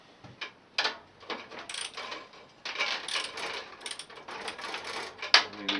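Ratchet mechanism clicking in bursts while loosening bolts during a Craftsman rebuild, with irregular short runs of close metallic ticking and pauses between them.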